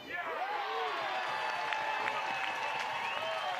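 Softball stadium crowd cheering and applauding after a strike call, a steady wash of cheers and claps at moderate distance, with faint whistles and a few high pitched whoops rising through the noise.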